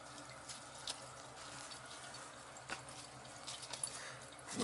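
Water dripping and trickling from a leaking gate valve on a gas boiler heating system in a basement, a soft, faint, steady patter with small irregular drops and no voices.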